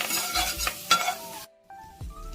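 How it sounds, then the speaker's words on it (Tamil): Chilli, turmeric, asafoetida and curry leaves frying in a pan: a soft sizzle with stirring scrapes and utensil clinks, loud for about a second and a half, then a quieter stretch with a faint tone and renewed stirring. "மிளகாய், மஞ்சள், பெருங்காயம், கருவேப்பிலை எல்லாத்தையும் நல்லா வதக்கிக்கலாம்."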